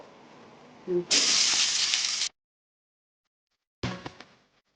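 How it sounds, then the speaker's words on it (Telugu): Chopped onions and green chillies dropped into hot oil with whole spices for mutton keema, setting off a loud, close hiss and sizzle that stops abruptly, then a second shorter sizzling burst that fades out. "ఆయిల్ వీటెక్కిన తర్వాత కట్ చేసి పెట్టుకున్న ఉల్లిపాయలు, పచ్చిమిర్చి ముక్కలు,"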